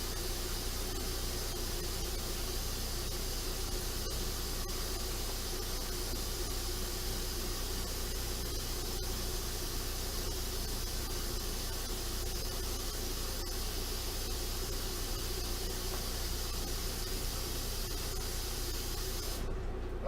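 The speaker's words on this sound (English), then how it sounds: "Fill it up to the 1 mark on the back, which is the 1 gallon mark." Water runs steadily into a Mr. Beer brewing keg, filling it to the one-gallon mark for a stout, as a continuous, even rushing hiss that lasts throughout and cuts off abruptly at the very end.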